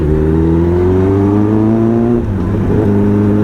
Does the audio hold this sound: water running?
no